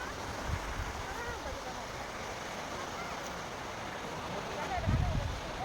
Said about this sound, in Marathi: असा पाण्याचा आवाज येत आहे